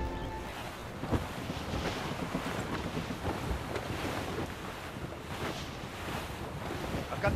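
Sailing ship crossing the open ocean in Assassin's Creed Rogue, with a continuous wash of waves and rushing wind swelling and ebbing around the hull, steady and fairly loud, no voices.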